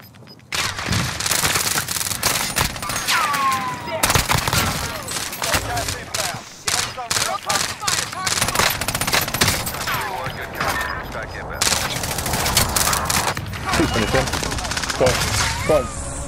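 Rapid video-game gunfire from a sniper-and-airstrike shooter crackles in dense, nearly continuous bursts for the whole stretch, loud and close, with a few sharper single shots and brief lulls between volleys.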